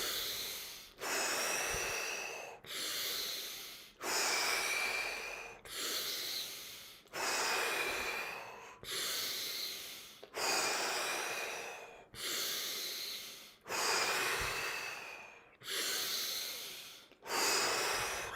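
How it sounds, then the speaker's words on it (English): Deep Tummo-style breathing, about ten long forceful inhale-exhale cycles in a steady rhythm, close and clear with no talk. "10 deep breaths in and out."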